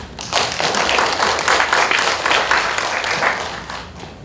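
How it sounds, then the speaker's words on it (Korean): Steady audience applause at a publishing industry conference in Korea, a full, even crowd of clapping that holds for about four seconds. "박수 한번 쳐주시죠."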